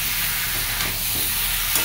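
Elephant foot yam and potatoes with salt, turmeric, coriander and cumin powder stirred and frying in a pan, a steady close sizzle with scraping under it for the whole stretch.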